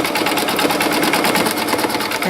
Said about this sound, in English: we put the presser foot down and we press the button go, and it's going to outline where my fabric needs to be placed